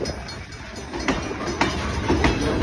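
A Line Central potash freight train passes on the North Bridge line in Prince Albert, Canada, with a steady rumble and regular clickety-clack of wheels over rail joints, close by.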